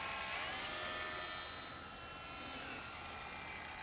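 A HobbyZone Sport Cub S 2 RC plane flies at low throttle, its electric motor giving a steady, faint, high whine with a slight dip and swell, heard from a distance with no voices.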